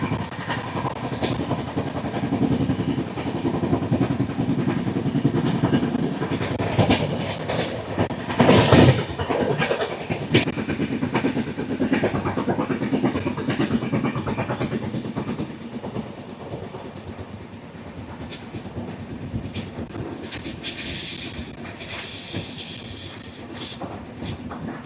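The 12757 Secunderabad–Sirpur Kaghaznagar Intercity Express rolls along the rails with a continuous rumble, rhythmic clickety-clack and hiss, loud and steady from on board with no talk.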